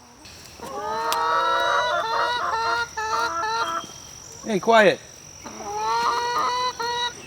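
Backyard chickens in a mobile coop cluck steadily alongside a guard goose, whose loud honking calls break out near the middle; someone briefly speaks over the flock.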